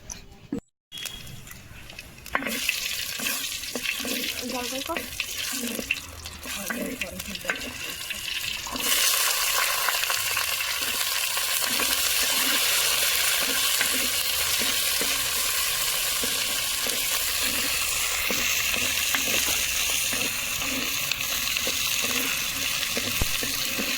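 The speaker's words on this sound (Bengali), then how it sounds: "দেখুন হাঁড়িটা নামিয়ে রাখার পরেও কতক্ষণ ফুটছে।" Vegetable dal keeps boiling in a clay pot taken off the wood-fired stove, a loud, continuous bubbling and seething after a few knocks at the start.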